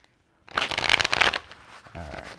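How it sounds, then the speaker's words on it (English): A deck of tarot cards is riffled in one quick, close burst of flapping card noise lasting about a second, trailing off into softer handling, with a faint voice at the end. "Ooh, that was a good shuffle."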